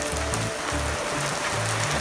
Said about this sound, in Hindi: बारिश बहुत तेज होगी है